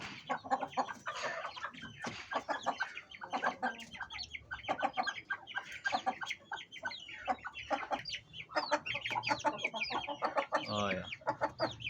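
Aseel rooster and hens in Amsterdam... no, Amritsar: a busy flock clucking and calling in quick, overlapping bursts at close range, with a louder rooster call near the end.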